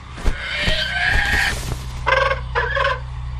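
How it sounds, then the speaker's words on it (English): A bird calls in a fantasy film scene, two short bright harmonic bursts close together near the end, following faint earlier sounds over a low steady background hum. "Nice bird."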